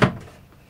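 A short, quick slide of a storage bin drawer pulling out in a 2015 Lance 1575 travel trailer, with a soft thump at the start and a brief rolling rattle that fades.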